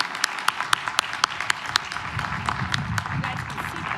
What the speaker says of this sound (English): If we could have a big round of applause for them.